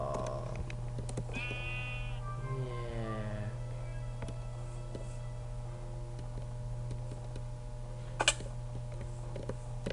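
Sheep bleating in a video game, two short wavering bleats near the start over a steady electronic hum, then a faint click later, with no talking.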